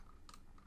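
A single keystroke of the enter key on a computer keyboard during drafting software annotation work, a short soft click with quiet room tone and no talk.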